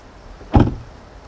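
A single short thud as the door of a 2022 Audi RS6 is shut, a brief dull closing sound in a quiet setting.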